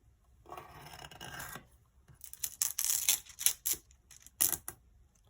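Scissors cut through journal paper in a quiet, close series of short, crisp snips and rasping strokes, with brief pauses between bursts.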